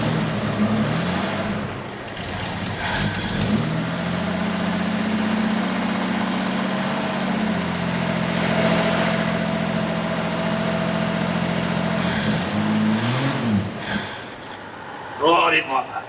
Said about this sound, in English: The Torana here is running really quite good.